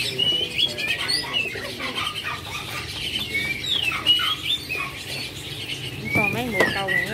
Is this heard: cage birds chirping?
yes